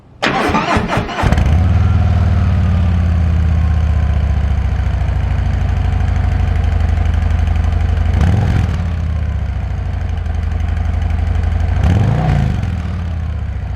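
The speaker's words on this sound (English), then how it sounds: "here's a look at how they sounded before the mufflers with the stock pipes on it" A 2022 Harley-Davidson Street Glide V-twin on stock exhaust pipes starts up with a sharp crank, settles into a loud, steady, lumpy idle close by, then gives two brief throttle blips.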